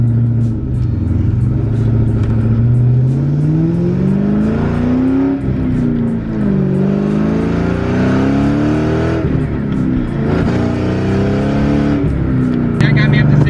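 A 400-horsepower Ford Mustang GT engine revs up through the gears, its deep tone climbing, dropping at each shift and climbing again, loud and steady from inside the car.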